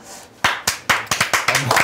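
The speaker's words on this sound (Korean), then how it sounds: "원래 박수 치는 건가?" Hands clapping in a football talk-show studio, several sharp claps in a quick, slightly uneven run following a short quiet lead-in, close and loud with no speech.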